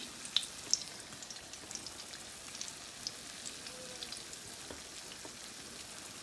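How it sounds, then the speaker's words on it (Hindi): Potato patties fry in hot oil in a pan with a soft, continuous sizzle dotted with small pops and crackles, heard close and fairly quiet. "इसी तरह मैं दूसरे भी जो रह गए हैं इनको भी फ्राई कर लेती हूँ"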